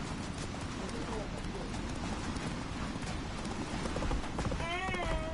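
Geralt's horse Roach gallops in The Witcher 3, with steady rapid hoofbeats close and clear, and a short whinny near the end over game background sound.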